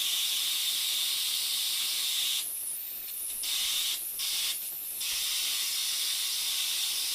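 A homemade spark gap Tesla coil on its first test run gives a few harsh, crackling bursts of discharge over a steady background hiss. The bursts come irregularly, one longer buzz followed by two shorter ones.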